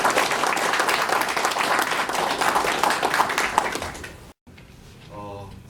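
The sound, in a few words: applause at a candidate's campaign announcement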